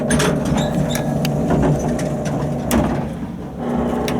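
The door of a 1959 Otis traction elevator closes in a small two-speed car, giving a loud rumbling mechanical drone with rattling clatter and a thump near the end, heard close up.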